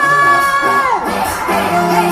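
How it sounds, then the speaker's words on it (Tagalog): A large outdoor political rally crowd in Cavite cheers and shouts loudly, voices rising in whoops and sustained yells with a musical tone running underneath. "Palakpakan natin ang may kasamang hiyawan, Miss Eva Castro!"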